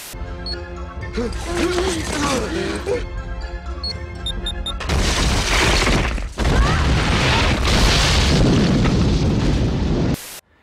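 Loud, rumbling film explosions in the mountains with booming blasts and crackling debris, layered over dramatic orchestral music, continuous and intense with a sudden cutoff at the end.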